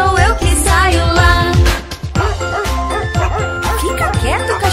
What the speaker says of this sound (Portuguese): está latindo lá no fundo do quintal.